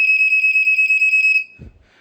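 A vintage Black & Decker smoke alarm gives a steady, piercing, high-pitched electronic beep, held for about a second and a half before cutting off, followed by a faint thump.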